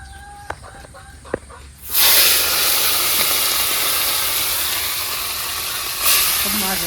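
Small fish and a green chili dropped into hot oil, a few faint clicks then a sudden loud burst of frying sizzle that holds steady, close, swelling again near the end.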